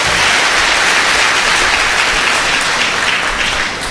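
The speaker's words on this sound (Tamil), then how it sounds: "இவருக்கு நம்ம ஒரு கைத்தட்டு கொடுத்துட வேண்டாம்?" An audience at a Tamil motivational speech breaks into applause, a loud dense crowd clapping that holds steady throughout and eases slightly at the end.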